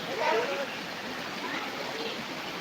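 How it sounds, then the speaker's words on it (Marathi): Water pouring from a height at a waterfall, a steady broadband rush heard close with no breaks. "एवढं उंचावरनं पाणी पडतं"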